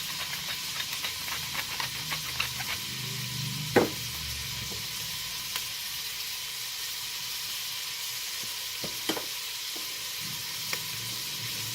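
Heirloom tomatoes cooking in a pan with onions, garlic and peppers, a steady close sizzle and hiss with a few scraping stirs of a utensil against the pan, no voices.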